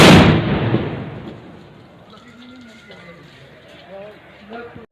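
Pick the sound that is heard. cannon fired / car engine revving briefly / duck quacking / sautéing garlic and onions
cannon fired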